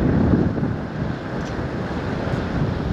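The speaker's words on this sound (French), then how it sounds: "vent de face, beaucoup de vent" Strong headwind buffets the microphone in a constant roar, with the wash of choppy sea water and a boat's hum underneath, sailing from Orkney toward Inverness.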